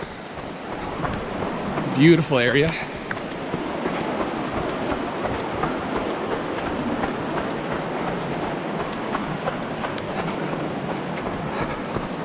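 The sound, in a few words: Bright Angel Creek flowing water, Grand Canyon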